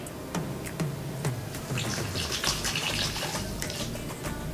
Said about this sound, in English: Now we're gonna pour some water to see what will happen to the toothpicks in the sand and the rock.